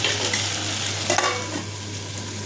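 Something cooking in hot oil in a pan: a steady, close sizzle and crackle with occasional stirring scrapes, continuous throughout with no talking.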